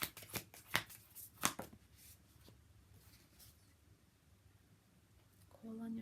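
A deck of tarot-style cards is shuffled for a reading, giving a few quick riffling bursts up close in the first couple of seconds, then faint handling noise as the pace slows.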